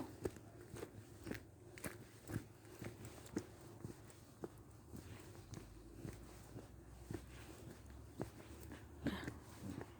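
Footsteps on a walk through a rural French village, soft regular treads with faint crunches spaced about half a second apart, quiet and close against a calm outdoor background with no talk.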